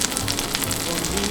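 Eggnog French toast fries in a pan with a continuous, close sizzle and crackle throughout.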